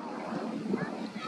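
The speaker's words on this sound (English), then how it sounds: "That wind would stop blowing though. That's what's messing it all up." Steady outdoor wind buffeting a microphone, a continuous broadband rush with gusty swells over about a second and a half, loud and close, with a faint voice mixed in.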